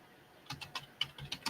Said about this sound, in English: I'm typing too fast, probably because I know y'all watching me.